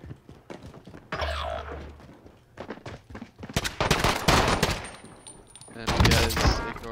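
Akimbo .357 revolvers fire in a first-person video game, sharp loud shots in scattered bursts, some quick doubles, mixed with game effects and a tense voice talking between volleys.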